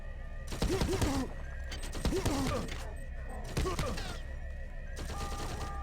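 Repeated sharp bursts of gunfire in System Shock 2 come in several separate volleys roughly a second apart, aimed at the player, with mechanical clatter between them and no talking.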